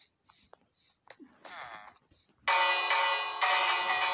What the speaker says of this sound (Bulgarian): Да ударим и камбаната.